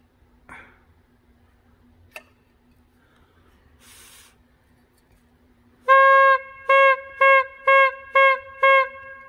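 Pipe organ reed pipe blown by mouth with its end stopped, preceded by a few faint taps, then six short buzzy reed tones in steady succession, loud and close with no talking.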